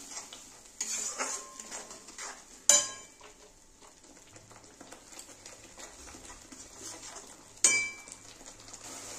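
Salt, Kashmiri chilli powder and turmeric are stirred in a pan with a soft sizzle, with a few sharp metallic clinks of a spoon against the pan over a quiet frying hiss.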